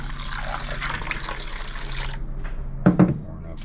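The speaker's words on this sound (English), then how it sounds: "Pour enough water on to" Water pours onto cassava pulp in a bowl, a steady wet rushing that fills the first couple of seconds, then thins out, with a few louder splashes near the end.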